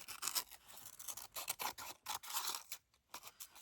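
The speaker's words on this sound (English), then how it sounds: "I think I'll just cut off the bottom here." Scissors snipping through paper while crafting, a quick series of close, crisp cutting strokes with brief pauses between them.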